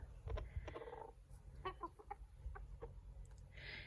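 Chickens cluck softly in short, scattered calls over a low rumbling background, with a brief higher squawk near the end.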